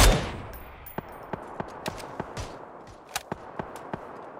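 Sporadic gunfire in the battle royale game PUBG: a string of sharp, separate shots spaced unevenly over a few seconds, some in quick pairs, moderately distant, with no talk over them.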